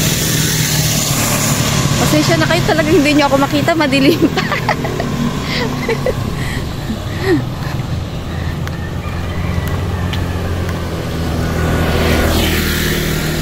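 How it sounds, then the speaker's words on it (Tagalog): Cars and motorbikes pass steadily along a road in early morning commuter traffic, a continuous near-to-mid-distance engine rumble and whoosh running under a person talking while walking. "yung mga pang alas 6 ang pasok, so maraming sasakyan"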